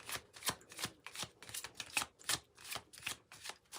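Tarot cards shuffled by hand during a reading, a steady run of crisp riffling flicks and slaps roughly every third of a second, close and clear with no talking.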